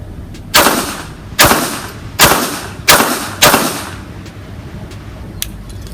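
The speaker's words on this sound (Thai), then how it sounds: "ทีนี้ลองยิงเร็วๆนะครับ มา ขออนุญาตจับสองมือนะ สองือนะครับมาห้านัด" Five sharp, loud shots from a Colt Woodsman pistol are fired in quick succession at a shooting range, each crack followed by a short decaying echo, evenly spaced under a second apart.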